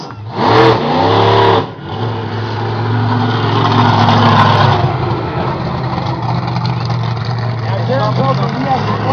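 A monster truck engine roars and revs while the truck drives and nearly tips over, a loud steady drone with bursts of throttle, heard under people talking nearby.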